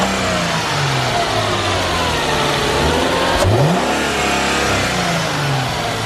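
A 2004 Chrysler Crossfire fitted with a new intake revs up from a steady rumble, rising and falling in pitch with an audible intake suction whoosh, loud and close, with no talking.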